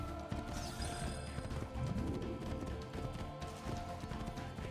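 Horse galloping in the video game Assassin's Creed II, with steady clip-clop hoofbeats running over game music and ambience, loud and close throughout.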